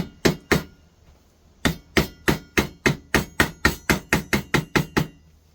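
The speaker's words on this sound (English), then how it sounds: "You're trying to tap the fret in." A hammer taps a fret into the neck of an Ibanez Roadstar guitar during a refret: two sharp knocks, a pause, then a quick even run of about a dozen close, crisp taps.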